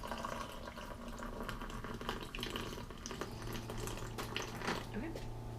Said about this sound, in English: I have my water thing, and hot water comes out of it, and I'm just gonna let that